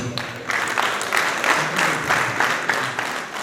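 Guests at a wedding clap loudly and steadily in dense, rolling applause that swells in repeated waves for several seconds, with no talking over it.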